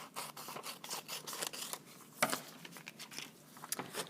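Scissors snipping through folded paper in a quick run of close, crisp cuts, with one sharper snap near the middle and no talking.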